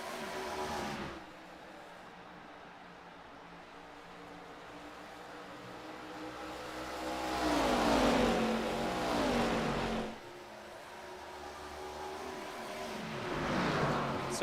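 Stock cars race at Dover in the iRacing sim game, engines droning and rising in pitch as they accelerate and pass, with several swelling revving sweeps over a steady motor hum.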